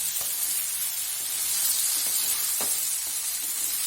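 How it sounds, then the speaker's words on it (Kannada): Okra masala fries in a pan with a steady close sizzle and hiss, broken by a few soft stirring scrapes. "ಲಾಯ್ಕ್ ಫ್ರೈ ಮಾಡ್ಬೋದು"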